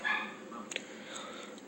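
A dog barks faintly in the background of a grandmother's house, a couple of short barks under steady room noise and a voice talking.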